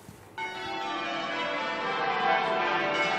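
Church bells ring at Westminster Abbey, a bright metallic peal that starts abruptly after a quiet moment and rings on steadily, fairly loud with long overlapping tones.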